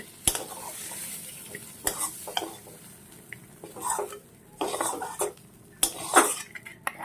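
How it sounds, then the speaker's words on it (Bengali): A metal spatula scrapes and clatters against a frying pan as cooked homegrown potato leaf greens are lifted out, with a faint sizzle and irregular close knocks of cookware. "এই যে দেখুন নামিয়ে নেব, হয়ে গেছে। দেখুন নামিয়ে নিচ্ছি শাক।"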